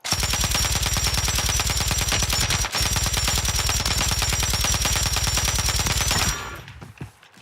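Sustained rapid gunfire from a sniper in a first-person shooter, a dense loud rattle of shots running steadily for about six seconds with a brief break, then cutting off abruptly into quieter trailing sounds.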